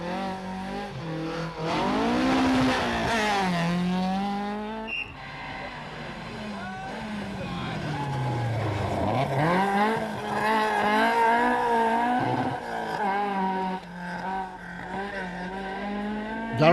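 Rally cars race flat out on a tarmac stage at the 1995 Cork 20 International Rally, engines screaming through rising and falling revs as each car passes close by, with tire squeal and a commentator talking over the noise.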